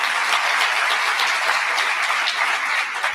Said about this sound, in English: one more round of applause for our top 10 scholars.